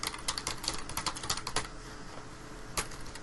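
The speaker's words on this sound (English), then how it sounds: "pressing enter." Keys clicking on a computer keyboard, a quick run of close, crisp taps followed by a pause and one final press of the enter key.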